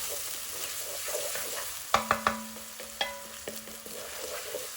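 Onions softening in a pan for a restaurant-style bhuna onion base, a steady low sizzle broken by a cluster of sharp scrapes and clacks as a utensil stirs them, then a few more spaced stirring knocks, close and with no talk.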